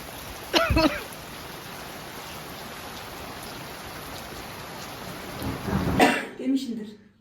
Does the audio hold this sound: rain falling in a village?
yes